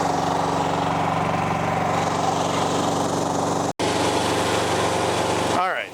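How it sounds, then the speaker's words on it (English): Engine of a 2019 Stepp OJK125 crack sealing kettle runs close and loud with a steady droning hum, cuts out for an instant, then resumes before winding down at the end. "Once we've done that, we push the green button. The engine will start, and now we've got power to the system."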